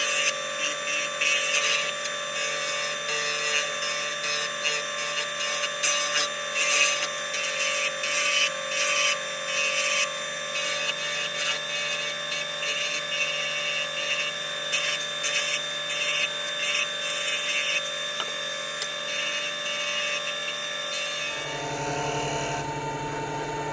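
A wood lathe turns a flame box elder pen blank on a mandrel, a steady, loud whirring hiss of cutting and rubbing that runs unbroken for about twenty seconds, then stops abruptly near the end.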